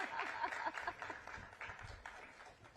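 Audience clapping at a panel event on second chance employment, a modest scattered round of applause from a small crowd that tapers off toward the end.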